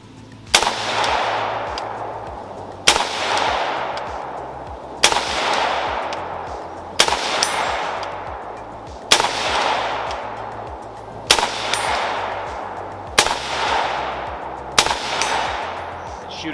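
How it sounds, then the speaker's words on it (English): A newly built AR rifle fires eight evenly spaced shots outdoors, each a sharp loud crack followed by a long ringing decay, about two seconds apart, with no voices between them. "Let's go ahead and shoot a little bit more."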